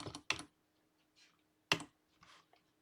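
A few scattered keystrokes on a computer keyboard, sharp close clicks in small bursts separated by near silence, with no voices.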